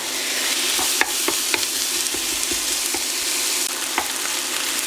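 Ground meat seasoned with salt fries in a pan for a potato gratin, a steady loud sizzle running throughout with sharp scraping clicks of a utensil stirring it every second or so; no talking.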